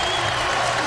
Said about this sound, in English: the crowd here at Assembly Hall trying to urge the Hoosiers on